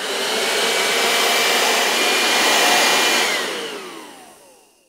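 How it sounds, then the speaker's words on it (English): A vacuum cleaner's steady whirring roar runs loud and even for about three seconds, then winds down with a falling pitch and fades out over the last moments. "Can you make a noise like a vacuum cleaner?"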